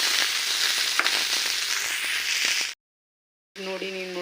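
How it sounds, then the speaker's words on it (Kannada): Sliced okra (bendekai) frying in about two tablespoons of oil until golden brown gives a loud, steady crackling sizzle, cut off by a short silence before the frying resumes with a faint tonal hum beneath it. "ಗೋಲ್ಡನ್ ಬ್ರೌನ್ ಆಗೋವರೆಗೂ ಫ್ರೈ ಮಾಡ್ಕೊತಿದ್ದೀನಿ."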